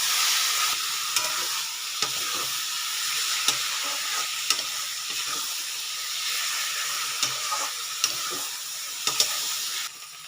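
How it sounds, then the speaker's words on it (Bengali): Cashews and raisins frying in desi ghee for gajar halwa, a steady close sizzle and hiss with occasional stirring clicks and scrapes, no voices. "আর এই কাজু কিশমিশগুলো দিয়ে আমি এটাকে আবার একটু ভালো করে ভাজবো"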